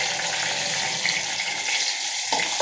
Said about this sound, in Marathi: तर मिरचीला पण चांगलं परतून घ्यायचं आहे.